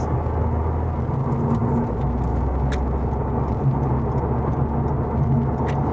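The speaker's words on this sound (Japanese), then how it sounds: "結構室内騒音は来るね。 これロードノイズだね。" Inside a Toyota GR Yaris at about 90 km/h on an expressway, a steady low road-noise rumble and tyre roar drones on without a break, fairly loud and close, with no talking.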